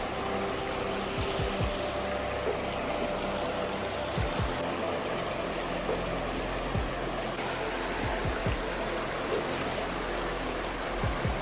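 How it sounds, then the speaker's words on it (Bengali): A clean, cold snowmelt river in a peaceful Swiss spot flows in a continuous rushing babble, steady and fairly near, with occasional low knocks and thumps underneath. "সাথে আবার নদীর পানির একটা মিউজিক পাওয়া যায়"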